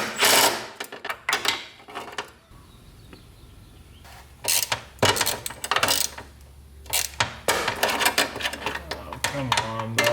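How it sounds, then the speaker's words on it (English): Bolts near the oil pan of a Subaru engine being worked loose, with repeated metallic clicks, ratcheting and clanks in irregular bursts, close up. "So let's try to get these bolts out."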